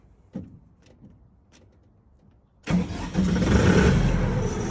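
Mitsui APW-50 diesel generator on a test stand: a few faint clicks, then the engine cranks and catches, settling into a loud steady running rumble.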